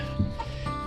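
Chickens at a homestead cluck in a short, close burst of a few low calls over a steady background hum.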